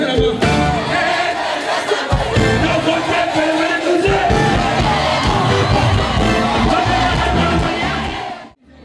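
A concert crowd cheers, whoops and shouts loudly and continuously, a dense roar of many voices with surging bursts that fades out abruptly at the very end.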